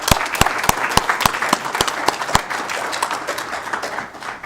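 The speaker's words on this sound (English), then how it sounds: "Let's give him another round of applause." Applause fills a Federal Way City Council meeting chamber, dense and steady with several sharp, evenly spaced claps standing out near the front, tapering slightly at the end.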